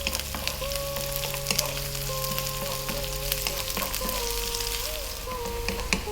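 Onion and chili fry over medium heat for a Tamil pepper chicken, giving a steady crackling sizzle with occasional stirring clicks, plus a sustained background hum and a whistling tone.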